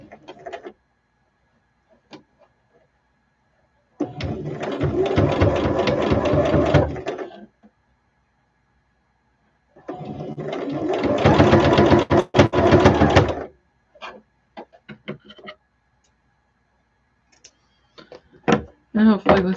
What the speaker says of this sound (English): I think I'm just gonna sew another piece of lace over it.